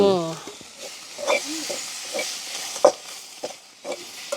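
A spicy ambarella devilled mixture is stirred in a pan, giving repeated scraping strokes and a faint sizzle. A short voice sounds at the start.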